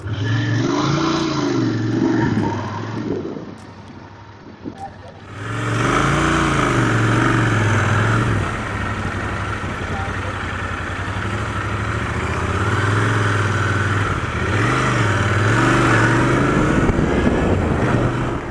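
Royal Enfield Interceptor 650 motorcycle being ridden, its engine note droning steadily and loud with rising and falling revs, after a brief quieter lull near the start.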